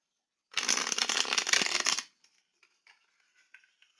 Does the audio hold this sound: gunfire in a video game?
no